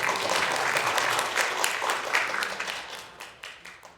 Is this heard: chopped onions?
no